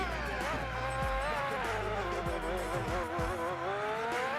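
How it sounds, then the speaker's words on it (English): A Formula GT race car engine in Gran Turismo 4 screams at high revs, pitch climbing and dropping through gear shifts, loud and continuous with a deep rumbling undertone. "the engine is probably even louder here than it was in any of the previous races"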